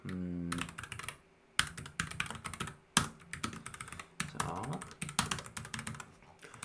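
Someone types code on a computer keyboard in quick irregular bursts of close, crisp key clicks, with short pauses between runs of strokes.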